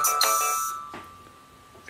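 A key on a Korg Volca synth is left ringing on, holding a steady, thin electronic tone after a brighter chime-like attack. The tone drones on and slowly softens, with a faint tap near the end.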